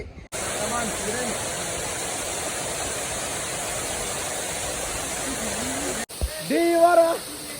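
A waterfall gives off a steady, loud roar of rushing spray close by. A person talks over the roar, and the noise cuts off abruptly near the end as more voices come in.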